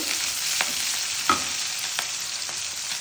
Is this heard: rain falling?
no